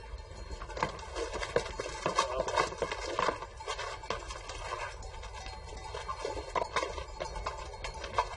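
A horse is led toward its stable, its hooves clip-clopping in an uneven stream of close, sharp knocks with no talk.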